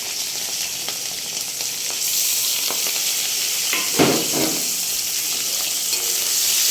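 Garlic, green chilli and prawns coated in salt and turmeric frying in a pan, giving a loud continuous sizzle that swells as they go in, with a brief stir and scrape, close up.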